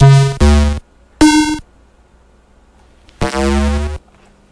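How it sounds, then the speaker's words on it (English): Three short bursts of buzzy chiptune pulse-wave bass tones, two pulse channels with one detuned, bright and harmonically rich with a low bass note, separated by near-silent gaps. "For the bass sounds, I like to use just the basic pulse channels"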